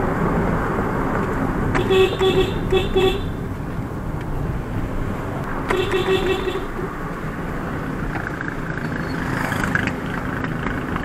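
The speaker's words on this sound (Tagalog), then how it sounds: "Grabe, kayang-kaya ng Honda Brayo RS. Hindi siya nahihirapan kahit puno kami dito." Honda Brio RS car climbing a winding uphill road with a full load of passengers, its steady engine and tire drone continuous throughout, with brief voices chattering over it.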